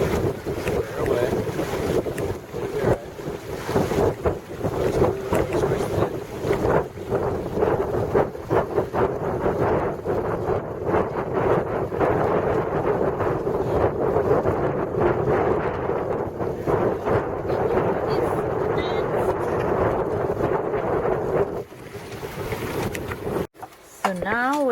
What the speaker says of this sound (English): Turn into the wind, Carla.